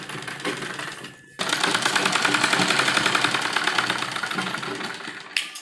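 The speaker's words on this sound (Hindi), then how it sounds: "इस तरह फोल्ड करेंगे और यहाँ पर सिलाई लगाएंगे" Sewing machine stitching a net blouse, a rapid continuous mechanical chatter that starts after a short pause and runs steadily, close and loud, with no talk.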